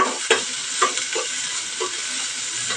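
Onion and tomato frying in oil in a pan, a steady hissing sizzle with occasional soft stirring knocks and scrapes, moderately close and without talk.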